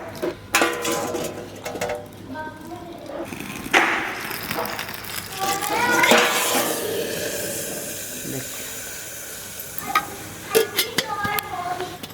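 Tempering spices (tadka) sizzle and crackle in hot oil with occasional clinks of a utensil stirring the pan, fairly close, with no one talking.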